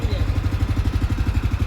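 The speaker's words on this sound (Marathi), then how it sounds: "हे बघा, आता इंजिनच्या जवळ आलो आहे मी. याचा आवाज चेक करा." A Swaraj mini tractor engine, a ride-on toolbar type with a rotor, runs close by in a steady low throbbing idle with fast regular pulses and no voices.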